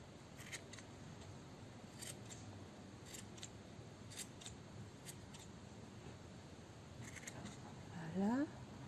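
Fabric being cut with scissors for a newborn elf-style bonnet, a series of quiet snipping strokes at a steady pace, close and faint, with a brief voice near the end.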